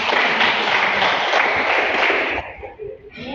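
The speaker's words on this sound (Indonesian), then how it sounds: "Kita berikan tepuk tangan." A classroom applauds a student with a dense burst of many hands clapping together, loud and close, then quickly thinning out into a few scattered claps.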